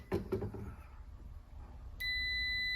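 A couple of soft clicks, then a sustained high-pitched electronic tone starts abruptly and holds steady until the end.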